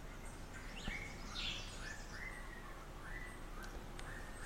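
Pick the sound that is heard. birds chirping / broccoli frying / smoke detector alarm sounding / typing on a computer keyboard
birds chirping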